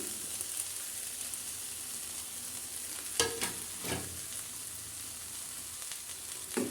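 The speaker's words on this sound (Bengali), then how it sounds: "এখন বেশ কিছুক্ষণ নাড়াচাড়া করে নেব" Leftover pulao rice is stirred in a hot pan, a quiet, even sizzle with a couple of brief scraping stirs near the middle and end.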